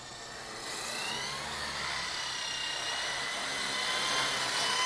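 Wltoys V912 brushless RC helicopter in flight, a continuous high whining buzz of motor and rotor that swells slightly as it climbs, close and steady with no talk.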